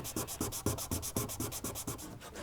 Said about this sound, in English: One of the most important areas that I'm sanding here is the very inside of these channels